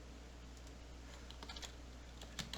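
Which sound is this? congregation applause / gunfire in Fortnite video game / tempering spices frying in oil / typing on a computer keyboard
typing on a computer keyboard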